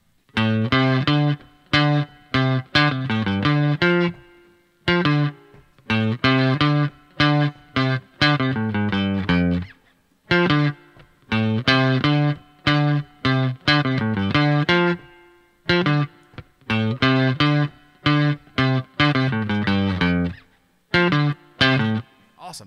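A loud, gritty distorted electric guitar riff repeats several times in choppy, rhythmic phrases separated by short pauses.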